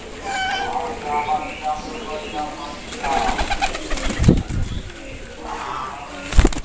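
Breeder pigeons coo in low, wavering calls amid nearby talk, with sharp knocks and handling noises breaking in toward the end.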